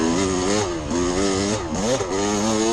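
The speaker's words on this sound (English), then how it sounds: "you hear that bike lugging? I think that's my problem. I think I need to run in a higher gear." A dirt bike engine lugs in too low a gear during a hare scramble race, a loud, close, labouring drone with harmonics that dip and rise as the throttle changes, running continuously with no talk.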